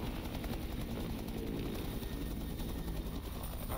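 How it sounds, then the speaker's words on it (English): Helicopter in the video game Duke Nukem: Manhattan Project, its rotor and engine making a loud, steady churning drone that holds unbroken and close throughout, with no pauses. "Chopper go."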